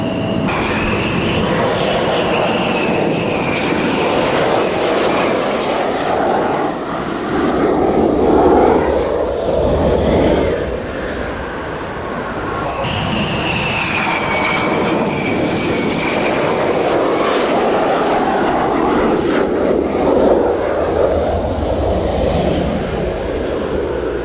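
An aircraft taking off at the Royal International Air Tattoo: a loud, sustained engine roar with whining turbine tones that swells and shifts as it passes, continuous throughout.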